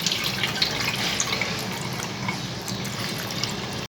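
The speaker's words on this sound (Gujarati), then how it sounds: "આપણે ઠંડુ પાણી રેડીશું એટલે વધારે બફાઈ ના જાય." Cold water pours steadily over freshly boiled pasta, a close, continuous splashing rush without a break, like running from a tap into a strainer.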